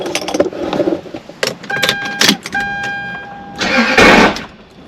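Keys jingle near a car before its engine is cranked, a rough starter whir that sputters and fails to catch, with a chime tone in between and a final louder grinding burst.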